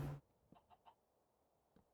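A chicken clucks in the video game Minecraft, three quick soft clucks followed by a single faint one after a pause, following a brief loud burst at the start, with no talking.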